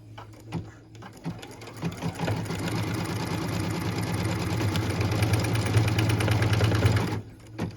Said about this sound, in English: Machine step 27 is stitching the snow globe base placement line.